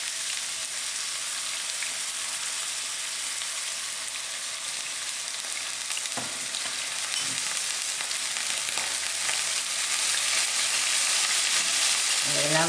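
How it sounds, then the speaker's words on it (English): Grated onions fry in about half a cup of hot oil in a pan for an egg chutney, producing a steady, dense sizzle with occasional faint stirring knocks throughout. "And then I throw in my onions."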